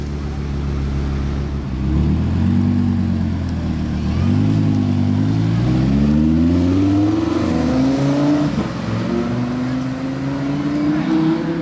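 Hypercars drive and rev on the streets of Monaco, with loud engines rising and falling in pitch as they accelerate past nearby, heavy exhaust tones overlapping throughout.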